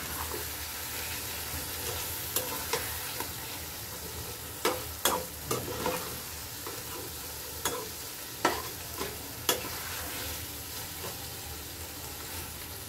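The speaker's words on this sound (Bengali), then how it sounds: "আর একসঙ্গে এই যে এটা দিয়ে দেব সিম বেশি, একসঙ্গে কষাই নেব।" Ingredients for chital fish are sautéed together in a pan, a continuous sizzle broken by several clattering spatula scrapes and stirs at uneven intervals, close and without talking.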